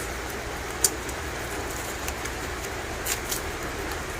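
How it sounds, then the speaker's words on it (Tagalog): Rain falling outdoors in a garlic-growing area, a steady soft hiss of drops with a few faint taps on surfaces, even and moderately distant, no talking. "Naulan dito sa amin guys."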